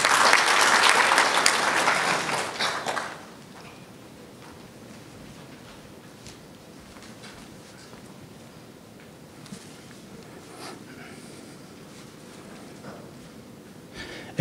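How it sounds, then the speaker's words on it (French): A crowd applauds at a trade forum in Dakar before Algeria's trade minister speaks: loud, dense clapping for about three seconds, then a sudden drop to a quiet room with scattered small rustles and a few isolated claps. "Applaudis bien fort, s'il vous plaît."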